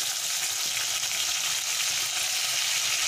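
Chopped tomato hits hot oil with a chilli tempering, setting off a loud, steady sizzle and hiss of frying that stays constant, with no voices over it.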